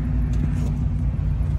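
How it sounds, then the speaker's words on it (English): Steady low engine rumble and road noise from a white Mustang being driven, a continuous close drone with no pauses. "Right now I'm driving a white Mustang."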